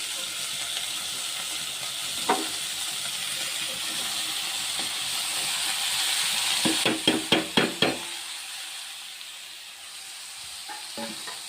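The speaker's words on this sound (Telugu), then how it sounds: "దోసకాయ ముక్కలను యాడ్ చేద్దామండి." Cucumber pieces tipped into a hot pan with turmeric for a village-style dried fish curry, giving a steady sizzle and hiss, then a quick run of sharp scraping stirs near the end, close and fairly loud.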